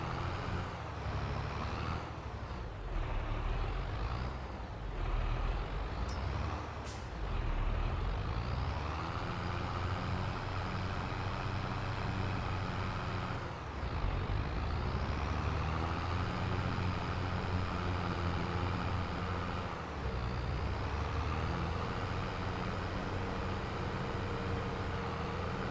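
A vehicle in Farming Simulator heading down the road toward a field, its engine droning steadily and loud with periodic rises and dips as it shifts and changes speed, continuous throughout.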